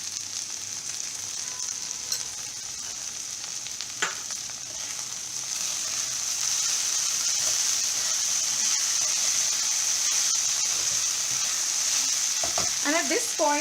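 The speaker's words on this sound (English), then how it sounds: "this has to be done on a medium flame because we have to fry our bhendi very well" Okra (bhendi) frying in a pan over a medium flame, with a steady bright sizzle throughout, a few stirring scrapes, and the hiss growing a little louder partway through.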